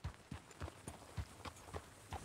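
Horse hooves clip-clop in a steady rhythm of regular thuds as the animal moves in a Western video game, a Missouri Fox Trotter, heard fairly close and alone without talk.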